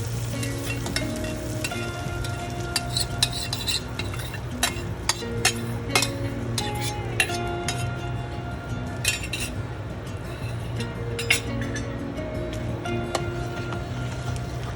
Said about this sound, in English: Mix it nicely so the seasoning is nicely amalgamated into the entire mix.